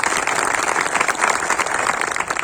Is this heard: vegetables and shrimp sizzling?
no